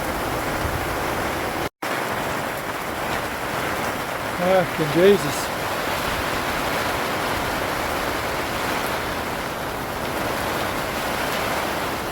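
Heavy rain pours down steadily at an outback campsite in Western Australia, a dense broad hiss drowning the surroundings, with a man briefly swearing partway through.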